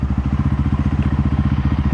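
A KOVI Lite 300 R motorcycle engine idles steadily close by after valve adjustment, its low, even rhythmic putter holding at constant revs with no speech.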